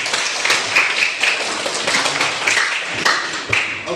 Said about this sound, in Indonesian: Tepuk tangan dulu Kak.